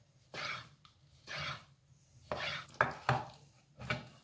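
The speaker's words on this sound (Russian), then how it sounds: "Отделяем малое филе." A knife cuts through a raw chicken fillet, separating the small inner fillet on a board, giving five or six short, close scraping and slicing strokes spaced about a second apart, with a couple of sharper taps on the board.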